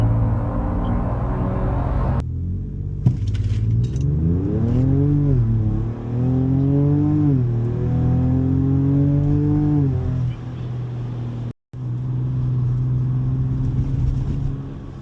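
A Ford Ranger Raptor pickup with a deep, throaty sport-mode exhaust accelerates through several gears, pitch climbing and dropping with each shift, then settles into a steady cruising drone.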